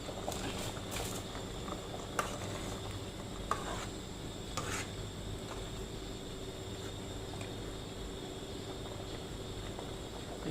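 A cooking pot of fish curry at a rolling boil, a steady close bubbling hiss with occasional faint knocks, continuous and even throughout.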